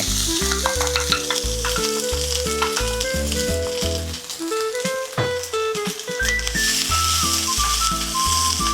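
Pounded curry paste stir-frying in oil over low heat for a dry chicken stir-fry, a loud steady sizzle with rhythmic spatula scrapes and stirring throughout, close and without talk.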